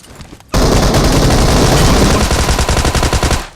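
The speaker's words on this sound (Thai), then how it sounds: "ไปทางนั้นไม่ได้ครูโดนสไนเปอร์ ดักยิงอยู่" Sustained gunfire from the PUBG Mobile battle royale game starts suddenly after a brief quiet moment, then runs as a loud, dense barrage of rapid shots, ending in a distinct rhythmic burst of repeated reports.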